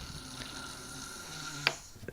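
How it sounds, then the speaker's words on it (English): A woman snoring nearby, a soft drawn-out breathy rasp under low room noise, with a brief sharper snort near the end. "she snores"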